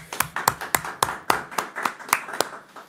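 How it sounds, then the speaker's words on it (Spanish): A single pair of hands claps in a slow, even rhythm, about ten crisp separate claps close to the microphone, welcoming a guest at a political gathering. "fuerte aplauso."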